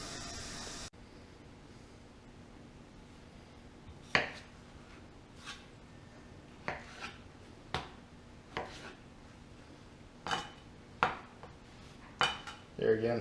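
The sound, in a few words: cutting potatoes for Manhattan clam chowder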